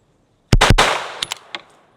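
Gunshots from an AK-style pistol-caliber carbine: two sharp, loud close shots in quick succession, then a few fainter cracking reports and ringing echoes dying away.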